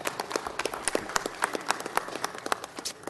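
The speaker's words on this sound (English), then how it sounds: "Let's give them a big round of applause." Steady applause from a crowd at a city council meeting, many hands clapping in dense, uneven bursts for a few seconds.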